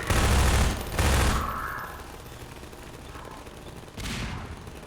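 Rapid bursts of automatic turret gunfire from the Half-Life 2 video game, loud and close, two heavy volleys in the first second and a half and another at about four seconds, with a softer game ambience between them.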